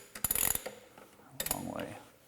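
Macht Schnell wheel studs threaded in by hand, giving a close, quick burst of ratcheting metal clicks, a pause, then a second shorter burst of grinding clicks.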